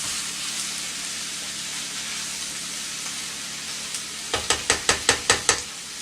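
Cabbage with turkey sausage frying in a pan hisses steadily, then a quick run of about seven rhythmic scraping strokes is heard as a spoon stirs it near the end.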